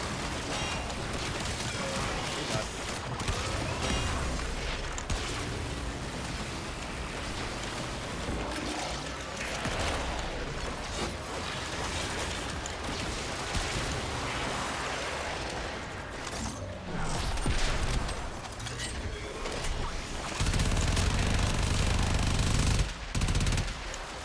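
Minigun fire from the video game Warframe roars in a dense, continuous stream of rapid shots, loud and sustained throughout, with a heavier burst near the end and no talking.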